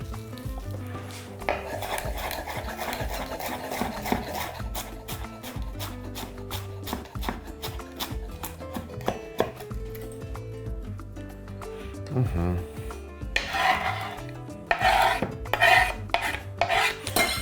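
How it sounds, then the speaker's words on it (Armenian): A knife finely chops a small bunch of parsley on a board in quick, rhythmic taps, close and clear, with scraping and rubbing sounds between bursts of cutting. "կտրատում ենք մանր"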